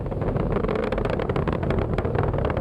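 SpaceX Falcon Heavy rocket engines roar during supersonic ascent on the NASA Psyche launch, a dense continuous crackling rumble heard from a distance, steady and loud throughout with no talk.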